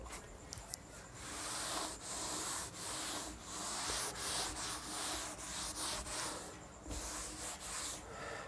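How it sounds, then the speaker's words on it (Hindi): Writing is rubbed off a classroom board during a Class 12 accounting lesson, heard as repeated close, rhythmic scrubbing strokes, each a soft abrasive swish separated by brief pauses. "इसे रब करता हूं"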